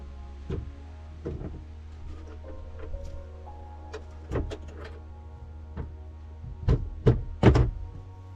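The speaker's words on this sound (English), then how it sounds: "Let me close the doors." Doors of a Ford Excursion being shut, several solid thuds and sharper clicks spread across the stretch, the loudest cluster near the end, over a steady low hum.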